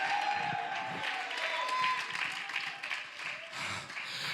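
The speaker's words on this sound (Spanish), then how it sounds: "Alguien dele un aplauso." A church congregation at a retreat claps and cheers in a fairly quiet, uneven burst, with voices and scattered shouts mixed into the clapping, rising and falling.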